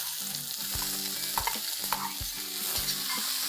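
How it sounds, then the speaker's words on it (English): Finely chopped onions fry with ginger and garlic in a restaurant-style chicken dish, giving a steady close sizzle broken by several scraping stirs and spoon knocks against the pan, with no one speaking. "now I'm going to add 4 medium-sized onions that I have finely chopped"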